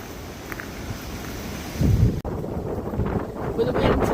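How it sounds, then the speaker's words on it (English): Breezy wind in a park buffets the microphone with a steady low rumble and a stronger gust in the middle, while a person speaks faintly underneath. "the wind today is quite breezy"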